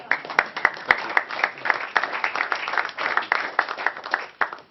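Reporters applaud at a tennis press conference after a final career appearance, a small group clapping with uneven, distinct hand claps and a few sharp louder strikes, sustained throughout.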